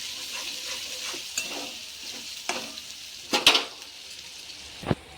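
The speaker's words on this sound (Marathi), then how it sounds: "चला आपण आता हे मसाले मिक्स करून घेऊया आणि छान मसाले तेलात होऊ द्यायचे." Spice masala frying in oil crackles and hisses steadily while a utensil stirs it, with several sharp scrapes and clinks against the pan scattered through, including a louder cluster midway; close up, no voices.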